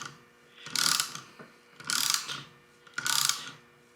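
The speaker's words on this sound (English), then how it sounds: "let's tighten this down" A ratchet tightens bolts on an LS 5.3 cylinder head in three even bursts of rapid metallic clicking, each about half a second long with short pauses between, close and crisp with no talking.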